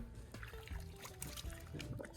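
Water trickling and gurgling into a pool vacuum hose as it fills while submerged in a newly installed fibreglass pool, a steady soft liquid dribble throughout, fairly quiet and close.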